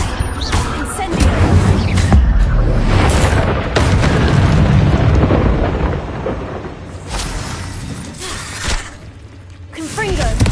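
Fire and blasting spells in Hogwarts Legacy, with heavy booming explosions and rumbling bursts going off loudly one after another, fading toward the end.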